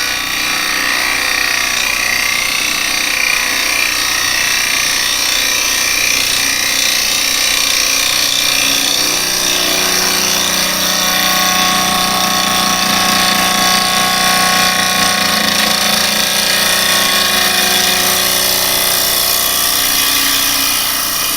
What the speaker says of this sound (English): The noise there is because I'm coming across the holes.